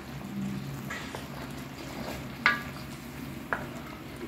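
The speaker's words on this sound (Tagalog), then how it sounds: "Haluin lang po natin siya ng haluin para kumalat po yung tomato sauce." Spoon stirring chicken pochero with tomato sauce in a pot, a soft steady scraping and sloshing with a faint sizzle underneath, punctuated by two sharp clinks against the pot.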